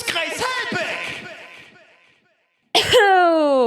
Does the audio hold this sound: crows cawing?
no